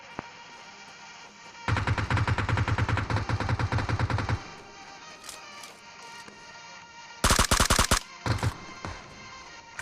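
Gunfire from the PUBG Mobile video game: a long rapid burst of automatic shots, then a few scattered single cracks and another short fierce volley, loud and close with no talk over it.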